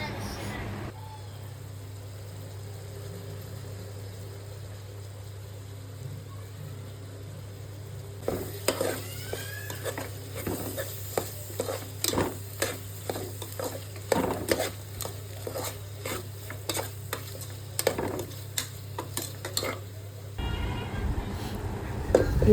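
Vegetables with masala powder are stirred and fried for a veg pulao in a pressure cooker. A low steady hum opens, then a close sizzle runs under repeated scraping and clinking of a spoon against the pot.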